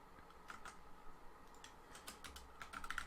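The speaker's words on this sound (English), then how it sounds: "The keyboard's so loud. It's a mechanical keyboard." Quiet clicking of a mechanical computer keyboard as someone types in short irregular bursts, with a faint steady hum beneath and no talking.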